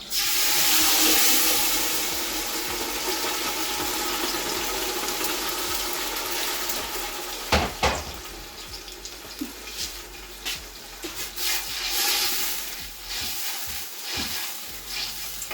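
Stock water poured into a pot while making vegetable soup, a steady splashing and sizzling wash that gives way to softer bubbling and a few clinks.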